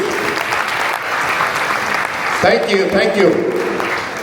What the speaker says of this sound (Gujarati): એ બધી ટીમો માટે તાળીઓ થઈ જાય પ્લીઝ